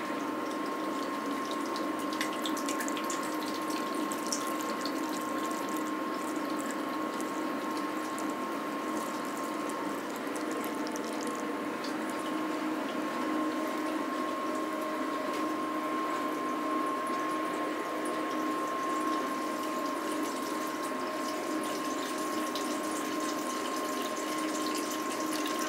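Cooling water running through the condenser of a home moonshine still, a steady continuous flow with a constant mechanical hum and faint ticking, unchanging for the whole stretch with no voices.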